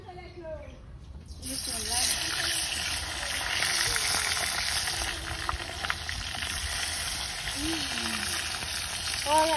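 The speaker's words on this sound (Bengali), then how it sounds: "এখন আমি রোস্ট ভাজছি।" Roast (Bengali meat roast) frying in a home kitchen pan, a loud steady sizzle that starts abruptly after a brief quiet moment and carries on continuously, with a voice and faint clinks heard underneath.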